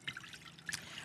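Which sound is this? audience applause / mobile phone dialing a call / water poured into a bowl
water poured into a bowl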